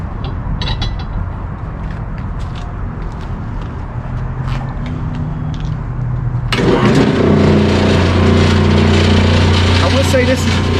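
An RBG-950 blade sharpening machine hums at a low, even drone, then jumps to a louder, brighter whir partway through and holds steady, with a person talking over it.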